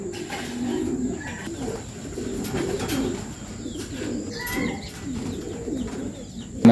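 Racing pigeons in a loft cooing softly and repeatedly nearby, low throaty murmurs layered with faint chirps and light rustling.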